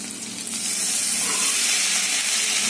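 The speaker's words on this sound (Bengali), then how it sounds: "এবার এই সবজিটার মধ্যে এটা ভাজা ভাজা হয়ে গেছে, এই চাউমিনটা ঢেলে দেবো।" Chow mein tipped into a pan of frying vegetables, which gives off a loud, steady sizzle and steamy hiss that builds after a brief quieter start and holds close and continuous with no talking.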